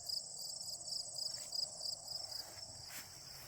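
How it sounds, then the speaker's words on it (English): Crickets chirp in a lawn in mid-August, with rapid repeated trills that pulse in short bursts over a quiet background and pause briefly near the end. "You're starting to get the crickets in the lawn."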